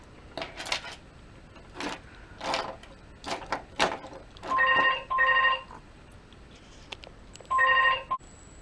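A mobile phone rings nearby in a home crafting setting, giving three bursts of a bright electronic ringtone among scattered handling clicks and knocks.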